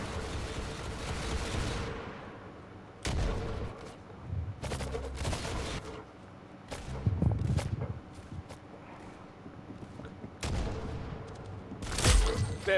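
Gunfire in the Roblox game Arsenal: bursts of rapid shots and booming blasts in irregular clusters, loud and close, with quieter gaps between volleys and no talking over them.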